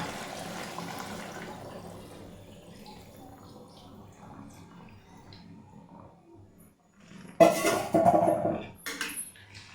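Spiced water poured into a cooking pan in a home kitchen, a burst of splashing and pouring near the end, following quieter kitchen clatter.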